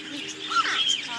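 A bird at a zoo gives a few short, fairly close chirps against quiet background noise.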